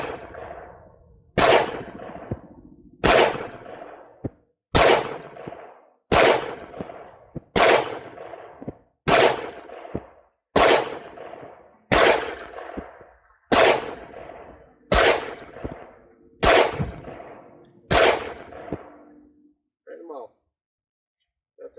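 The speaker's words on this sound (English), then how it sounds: "Let's fire another group." Eleven loud, evenly spaced gunshots from a Monstrum Vader firing a group of 124 grain Summit City reloads at a range, each crack followed by a short ringing decay, about one shot every second and a half, with a few quiet sounds after the last.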